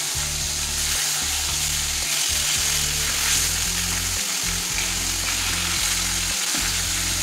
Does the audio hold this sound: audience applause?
no